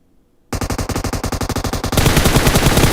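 Rapid automatic gunfire in an esports shooter match breaks out after a brief silence, a dense rattling stream of shots that grows louder and harsher midway, with no talk over it.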